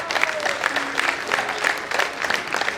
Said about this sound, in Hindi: ताली जोरदार बजाओ।